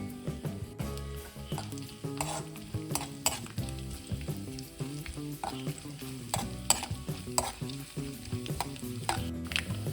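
Small, finely chopped coconut pieces frying in hot oil for puli inji, a steady crackling sizzle close up throughout, punctuated by repeated scraping and stirring clinks of a spoon against the pan, with no voices.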